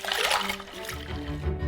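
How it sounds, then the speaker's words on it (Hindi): Ice dumped into cold water for cooling homemade mozzarella, giving a short, close splash and sloshing followed by a few lighter trickles. "हम ठंडे पानी में बर्फ डंप करेंगे।"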